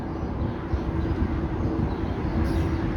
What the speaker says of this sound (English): Now we got a GO train going to Union Station.